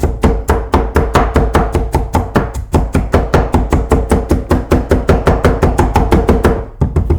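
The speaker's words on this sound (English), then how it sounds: "really can just keep chopping and the celery will stay in one place." Rapid, steady chopping of an Alaskan ulu knife cutting celery in a bowl, dozens of crisp thuds in even rhythm, close and loud with a brief pause near the end.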